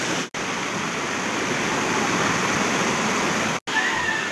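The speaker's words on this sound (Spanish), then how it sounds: "Más arriba se encuentra la catarata." A jungle waterfall near a river trail in Peru's Selva Central roars as steady, dense rushing water, loud and unbroken apart from two brief cuts.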